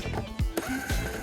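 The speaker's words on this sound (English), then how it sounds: "Now we're going to remove the nuts off of both of the tail lights" Nuts being removed from the tail lights of a 2017 BMW 530i, with short clicking and ratcheting bursts of a power tool near at hand, a few quick tool strikes in close succession.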